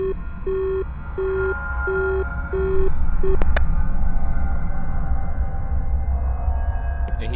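A phone line that has been cut plays a busy tone in the video game Is Simon There: six evenly spaced, steady beeps, then silence over a low background hum.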